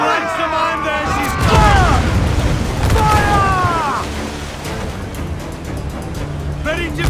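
Ship cannons boom repeatedly in Assassin's Creed 4: Black Flag during a naval battle, heavy low blasts rolling under shouted crew voices and orders throughout.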